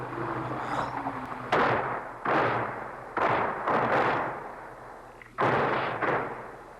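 Artillery guns fire in the Golan Heights during a 1974 artillery duel between Israel and Syria, five heavy booms in an irregular sequence, each with a long rolling decay, with no voices.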